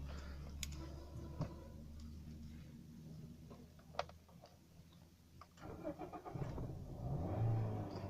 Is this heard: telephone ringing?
no